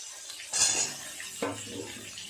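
Vegetables going into a pan with fried ridge gourd and pointed gourd: two quick, quiet bursts of clinking and scraping against the cookware.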